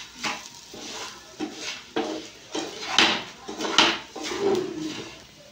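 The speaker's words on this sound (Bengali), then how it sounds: "ভালো করে নাড়িয়ে নেব।" A spoon scrapes and knocks around a pot of semolina pulao in a series of distinct stirring strokes, roughly one every second, close and fairly quiet with no talk.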